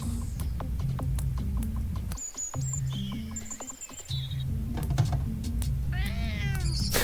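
A cat meows in the Adventures of a Cat video game, with several short meows over a low humming game soundtrack and bright chirping bird-like tones.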